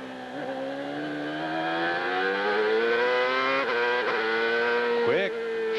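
A CART race car at Laguna Seca powers through the corkscrew, its engine note climbing loudly and close before several quick upshifts cut the pitch down sharply, with commentary running underneath.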